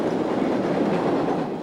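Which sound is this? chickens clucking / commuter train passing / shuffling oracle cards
commuter train passing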